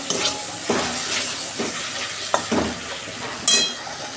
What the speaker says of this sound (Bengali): মশলা কষানো হয়ে গেছে, তেল ভালো বেরিয়েছে।